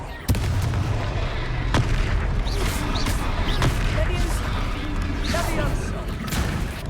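Blasting spell explosions in the Hogwarts Legacy video game, a dense run of booming impacts and crackling bursts over a constant loud battle din, with a voice shouting spell names throughout.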